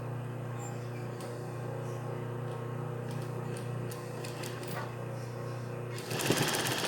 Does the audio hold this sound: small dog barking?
no